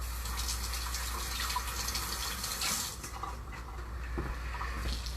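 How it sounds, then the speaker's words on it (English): Tap water runs steadily over corn as it is rinsed under a faucet, a continuous close gushing splash at low level with no talking. "Rinse it off real quick."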